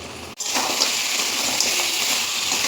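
Water poured into a pan of crab curry, a sudden splash followed by a steady, close gushing pour that continues evenly for a couple of seconds.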